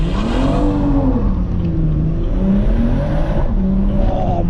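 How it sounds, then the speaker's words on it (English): BMW M140i, a rear-wheel-drive car with a ZF gearbox, tuned to about 440 horsepower with a downpipe, revs loudly and steadily, its engine pitch rising and falling continuously up close, with no talking over it. "that DSG pop or ZF pop, whatever you want to call it, sounds absolutely bonkers"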